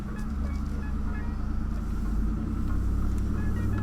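Steady low rumble inside a moving truck carrying an engine short block, a continuous drone with a faint cabin hum and no talk.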